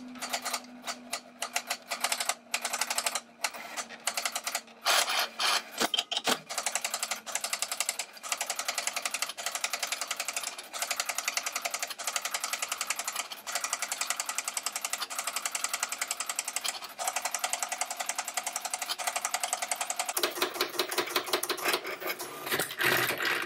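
A vintage HP 7475A felt tip pen plotter with 3D printed pen collars in its carousel runs with rapid mechanical clicking and rattling, bursts of fast stepping motion over a steady whirring drone, loud and close with brief pauses.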